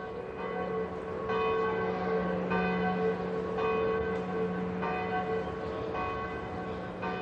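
The great bell of the Micalet bell tower at Valencia Cathedral, a deep bronze church bell struck repeatedly at a slow, even pace, each loud stroke ringing on in a long humming tone that overlaps the next.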